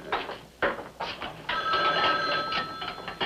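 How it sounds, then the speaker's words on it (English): A telephone bell rings in short repeated bursts, loud and close, alone with no talk over it. "Hey, boy, answer phone."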